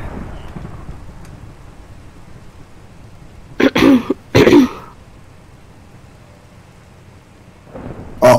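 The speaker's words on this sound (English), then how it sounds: "As I just get rained on in my house." Rain falling on a house in the video game Minecraft, a soft steady patter broken by two loud, close thunder cracks in quick succession and another rumble starting at the end.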